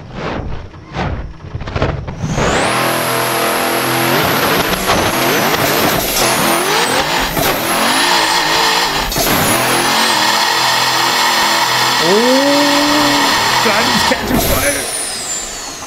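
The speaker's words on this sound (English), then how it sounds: "Let's take this thing on the dyno, guys, see how it performs." A 3000 HP LSX turbo engine in a GMC Suburban revs hard on a dyno in Assetto Corsa, with a few short blips and then a loud, sustained roaring pull with pitch sweeps and a whistling turbo. A voice talks over it.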